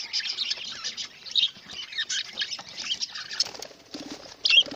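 Budgies and lovebirds in breeding cages give rapid high chirps and tweets, close and busy, mixed with bursts of wing flapping and scratchy rustling, with no talking.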